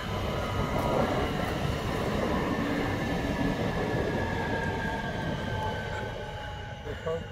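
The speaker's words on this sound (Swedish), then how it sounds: "här kommer krösartåget" The Krösatåg train in Sweden rumbles past close by, a steady broad roar of wheels and carriages that fades slightly toward the end.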